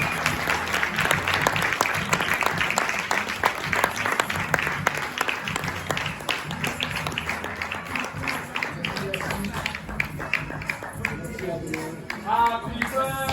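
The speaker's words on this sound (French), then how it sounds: "J'aimerais que vous fassiez un tonnerre d'applaudissements pour le Dr Ghazan." A large audience breaks into sustained, dense applause for Dr Ghassan Hakim, steady and strong, with voices and cheers mixed in and music starting near the end.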